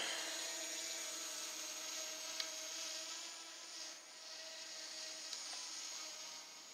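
A DJI Mini drone flying overhead near a tree gives a steady, high-pitched propeller whine that holds at an even level throughout, moderately near, with no voices.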